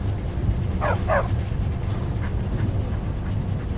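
A dog barks twice in quick succession in Skyrim, in the city of Markarth, sharp and fairly close over a steady low game ambience and rumble.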